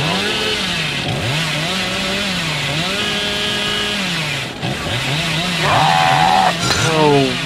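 The Hillbilly's chainsaw in Dead by Daylight revs in loud, rising and falling surges, repeating several times with a brief drop near the middle and a sharper burst toward the end, with no talk over it.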